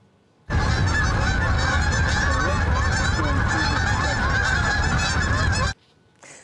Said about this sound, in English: This huge flock of geese just squawking and cruising above the river